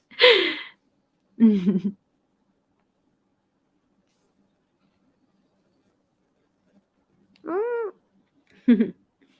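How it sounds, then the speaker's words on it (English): A cat meows four times in a quiet indoor space, short close cries with long silent gaps between them, the third a drawn-out rising and falling call. "cat."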